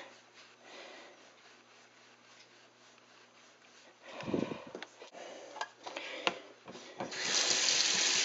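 A tap runs water while a vinyl record is resurfaced with a hard rubber pad, starting as a faint trickle, then splashing and clattering unevenly, and ending in a loud steady gush.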